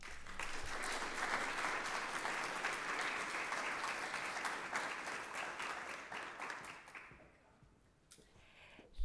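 An audience applauds to welcome lecturer Dr. Tricia Bruce at a Catholicism talk at Fairfield University, a dense, steady clapping that holds for several seconds and then fades out toward the end.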